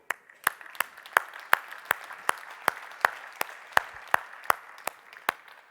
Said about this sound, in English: They need an applause from you.